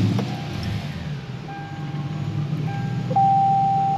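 A 22-year-old car with freshly changed differential fluid idles after starting, giving a steady close low rumble with faint thin whining tones and no talk.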